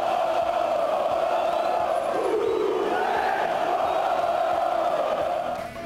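Crowd of Cruzeiro football fans cheering and chanting as the team arrives, a loud, steady roar of many voices held throughout with a brief dip midway.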